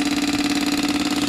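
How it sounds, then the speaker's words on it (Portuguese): A Yamaha Virago 535 motorcycle engine idles close by with a steady, even low throb, heard alone for a brief moment. "Ligar a moto, né?"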